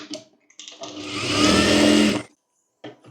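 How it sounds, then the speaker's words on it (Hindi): Sewing machine stitching a folded katori blouse piece, a steady whirring run of about a second and a half with short bursts before and after, close and loud. "यहाँ पर सिलाई कर लेंगे"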